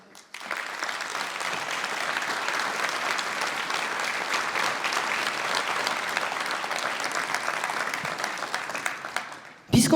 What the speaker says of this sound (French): Je pense qu'il ne serait pas inutile de les applaudir très chaleureusement ce soir.